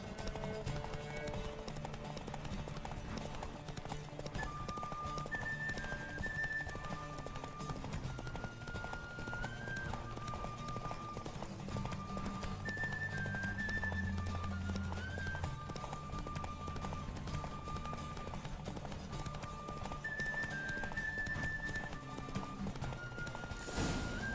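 Horse hooves clip-clop steadily in The Witcher 3 as a horse is ridden across the game world, a continuous rhythmic trot under game music, with the occasional faint whinny.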